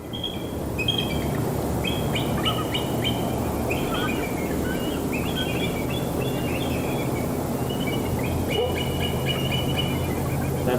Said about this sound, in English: That's the bald eagle.